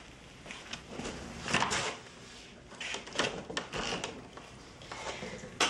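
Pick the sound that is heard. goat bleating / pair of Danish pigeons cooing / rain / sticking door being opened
sticking door being opened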